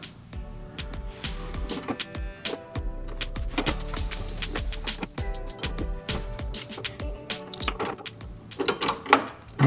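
A bolt is tightened on a side step bar bracket of a Dodge Ram 1500 pickup: a dense run of close metallic ratcheting clicks and scrapes, steady, then rougher and louder near the end.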